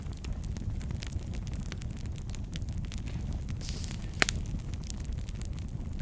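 Steady rushing roar of a fire burning in a fireplace, with faint scattered crackles and one sharper pop partway through, continuous and close, no voices.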